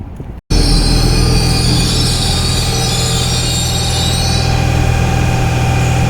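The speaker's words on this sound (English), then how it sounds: "It's so loud, there's a train here." A train at a Paris metro station roars close and loud after a sudden cut-in, with sustained screeching wheel squeal and rumbling machinery filling the space.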